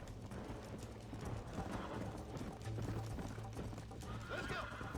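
A horse whinnies and its hooves clip-clop at a gallop in the Wild West video game Red Dead Redemption, with a steady loud rhythm of hoofbeats under continuous talk.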